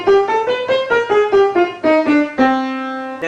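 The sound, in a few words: minor scale played on an instrument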